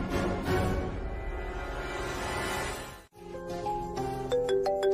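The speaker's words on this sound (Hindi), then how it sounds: "यार ये फोन क्यों बजते हैं?" A phone ringing in a Hindi TV drama scene. After a dense, swelling musical passage breaks off, a melodic electronic ringtone plays stepped, repeating notes, clear and fairly loud.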